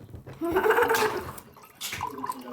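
Water splashing into a small container in a home, in two short pours separated by a pause, close and fairly clear with no talk.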